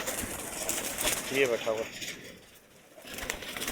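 A pigeon caught from a wild flock coos briefly with a couple of soft, low throaty calls near the middle, while someone talks close by and some wing or handling noise is heard.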